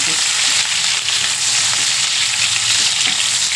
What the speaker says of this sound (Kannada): ಈರುಳ್ಳಿ ಮೆಣಸಿನ್ಕಾಯಿ ಕಟ್ ಮಾಡ್ಕೊಂಡಿದ್ದೆ ನಿಮಗೆ ಗೊತ್ತು, ಅದನ್ನು ಹಾಕೊಳ್ಳೋಣ ಬನ್ನಿ